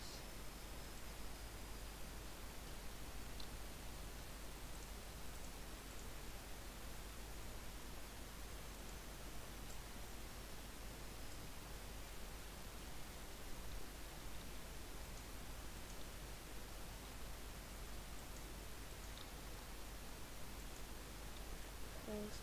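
Steady rain in a Minecraft Skyblock world, a constant, even hiss that holds without change from start to finish, fairly faint and alone.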